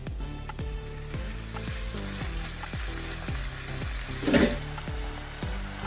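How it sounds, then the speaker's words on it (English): Marinated shredded beef sautéing in a hot pan, a steady sizzle and fry hiss with repeated soft scraping stirs, one brief louder burst near the end, no talk. "Let's saute our beef. Our marinated beef."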